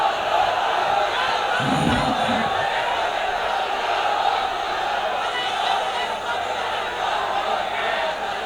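A large crowd at a religious gathering roars a continuous, dense chant of the takbir, loud and sustained throughout with no pause.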